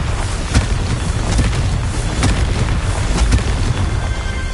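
Confringo fire spell in Hogwarts Legacy bursting in loud, booming explosions, with several sharp blasts over a dense rumbling roar.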